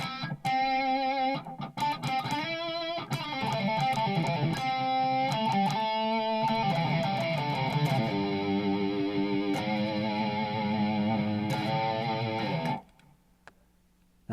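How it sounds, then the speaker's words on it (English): An electric guitar played through the distortion patch of a Fesley FME-1000 guitar workstation rings out loud and sustained, with a run of picked chords and notes that swell into a long held, buzzing chord before cutting off abruptly. "Brown 3 with distortion, it looks like."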